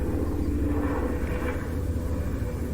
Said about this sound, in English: That's a helicopter there, or a plane of some kind.